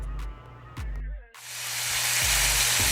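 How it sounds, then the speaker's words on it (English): Oxtail searing in a hot pan for a Jamaican stew, with a loud bright sizzle bursting in and holding steady after a few clanks and a brief hush. "right about now I'm about to sear my oxtail for about a minute on each side"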